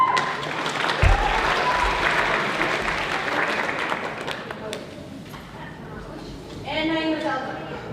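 Applause for students at a high school band concert, a large audience clapping steadily and loudly before fading, with voices and a short cheer near the end.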